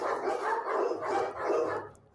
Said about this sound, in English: With a bunch of dogs.